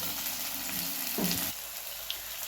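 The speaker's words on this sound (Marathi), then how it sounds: "आता बघा कांदा आणि टोमॅटो आपलं छान भाजलं आहे" Onion and tomato frying in a pan, a steady crackling sizzle throughout with a brief stirring scrape in the middle.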